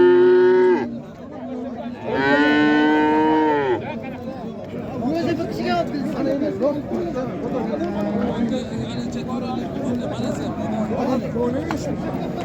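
Dairy cows at a Karshi livestock market low twice in long, loud moos up close. Crowd chatter and people talking carry on throughout.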